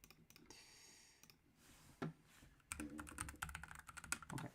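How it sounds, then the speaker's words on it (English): Someone types on a new computer keyboard in irregular bursts of close, crisp key clicks, with a short pause midway before a faster flurry of keystrokes. "I've got to get better with this keyboard. It's a new keyboard"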